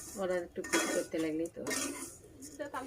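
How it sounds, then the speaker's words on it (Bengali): Lachcha semai vermicelli being fried and stirred in a pan at home, with close, repeated clinks and scrapes of a utensil against the pan and a voice faintly audible underneath. "ভালোভাবে এটা ভেজে নিচ্ছি যাতে কোনো রকম মেল না আসে"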